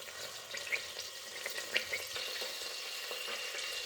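A bay leaf fries in hot oil or ghee for kichdi, giving a soft, steady sizzle with faint stirring clicks, fairly quiet and without talk.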